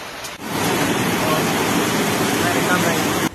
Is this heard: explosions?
no